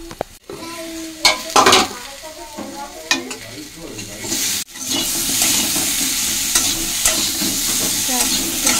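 Fish curry with potatoes is stirred in a frying pan: a spoon scrapes and knocks against the pan in uneven strokes, then a loud, steady sizzle and bubbling takes over near the end.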